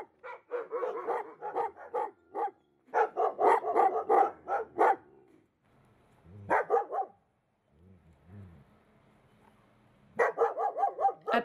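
Stray dogs bark at a shelter in several close bursts of rapid, overlapping barks, with quieter whimpering between the bursts.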